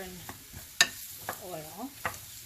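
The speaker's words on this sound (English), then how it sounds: "you add your mushrooms. Yeah, and then you just want to move those around lots" Mushrooms sizzle in butter and oil over high heat while a utensil stirs them, giving a few sharp scraping clicks over a steady close hiss.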